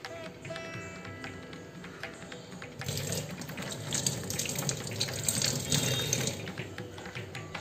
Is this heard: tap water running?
yes